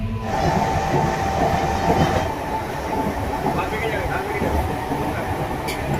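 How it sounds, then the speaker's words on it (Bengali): A Howrah MEMU special local train runs with a continuous, loud rumble of wheels and carriages, heard from inside with faint voices in the background. "আমাদের ট্রেন কিন্তু নির্ধারিত সময় থেকে মাত্র 15 মিনিট লেট করে ছাড়লো Howrah two memo special local train"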